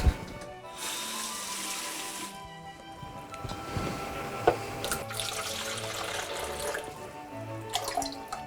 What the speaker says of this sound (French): tu vas verser de l'eau pour que ça fasse 500 g